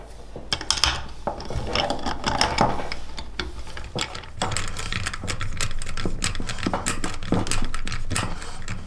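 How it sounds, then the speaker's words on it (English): A 10mm socket ratchet clicks in quick bursts of pawl ticks while tightening tail tidy bolts on a 2019 Yamaha Tenere 700, close and fairly quiet, with short mechanical knocks in between. "We can then do those up using our Phillips head screwdriver and our 10mm socket."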